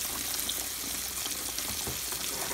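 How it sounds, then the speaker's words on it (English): Fish fries in a hot skillet, giving a steady soft sizzle and crackle, faint and continuous with no talking. "So we're going to let that fish cook on both sides."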